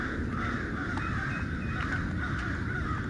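Several crows caw repeatedly at a moderate distance over a steady outdoor background hiss, with no talking.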